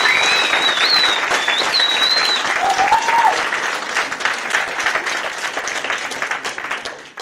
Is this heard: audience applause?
yes